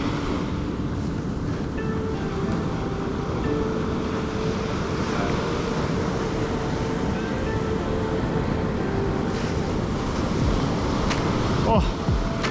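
Surf crashing on an Australian beach at Bingie, New South Wales, a steady broadband roar of breaking waves with wind buffeting the microphone throughout, and faint voices talking underneath.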